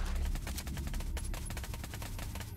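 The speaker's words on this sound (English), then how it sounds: "Oh, I hear gunshots." Rapid bursts of automatic gunfire from the video game Dragon Ball the Breakers crackle faintly and repeatedly, a quick rhythmic volley of distant shots without talk.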